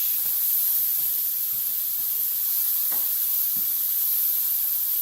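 Bacon fries in a pan, a constant loud sizzle and hiss with a few faint clinks underneath, no talking.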